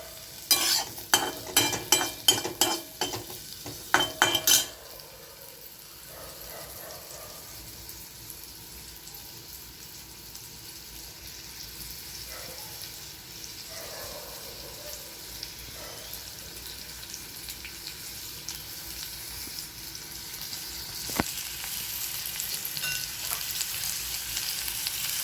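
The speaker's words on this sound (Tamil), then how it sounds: "முதல்ல வடச்சட்டி வச்சு எண்ணெய் ஊற்றி வெங்காயம் போட்டிருக்கேன். ஒரு வெங்காயம் ஒரு 2 நிமிஷம் வதங்கட்டும்." Onion frying in oil in a kadai begins with a rapid series of loud clattering scrapes, then settles into a faint, steady sizzle with occasional soft clicks that grows slightly louder toward the end.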